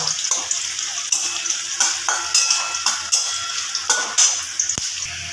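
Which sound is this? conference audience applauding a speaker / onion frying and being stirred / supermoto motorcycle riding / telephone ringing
onion frying and being stirred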